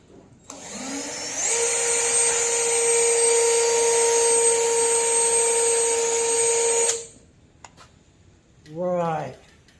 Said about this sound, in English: let's get us a hole drilled in here.